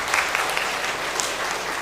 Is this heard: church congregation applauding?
yes